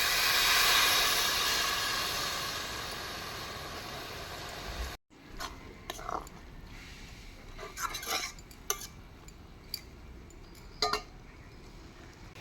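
Snails and cabbage cook in a pot with a little water, first a steady loud hiss of steam and simmering, then after a sudden cut, quieter clinks and scrapes of a utensil against the pot, without talking.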